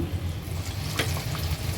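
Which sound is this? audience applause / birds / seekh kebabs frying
seekh kebabs frying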